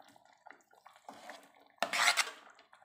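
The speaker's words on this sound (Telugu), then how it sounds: "మొత్తం కలిసేలాగా కలుపుకుందాం" A spoon stirs boiled potato into aloo kurma in a metal pot, making soft scraping and clinking near at hand, with a louder wet scrape near the end and no talk.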